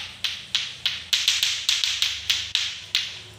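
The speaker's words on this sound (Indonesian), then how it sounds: "Tepuk pramuka." Scout-style rhythmic hand claps, about a dozen sharp close claps in a quick patterned beat, loud and clear with no talking over them.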